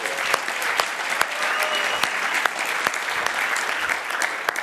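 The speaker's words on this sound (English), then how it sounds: "Let's give you a round of applause." Sustained audience applause at the Imagine Cup World Championship 2018 world finals, a steady wash of clapping from a large crowd with a few sharper individual claps standing out, no talk over it.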